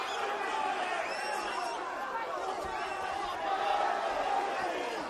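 Crowd noise from a Cage Rage MMA event, Anderson Silva versus Lee Murray: a steady, fairly loud hubbub of cheering and chatter with a slight swell near the end.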